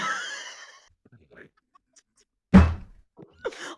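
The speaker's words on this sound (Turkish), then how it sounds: "Ayağımı vurdum." A foot strikes something with a single dull, heavy thud, heard close by. Brief voices and breathy sounds come before and after it in an otherwise quiet room.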